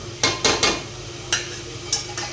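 Ginger garlic paste fries in a pan for a mutton curry, with several short sizzling, scraping bursts from stirring, close and moderately loud, then quieter gaps.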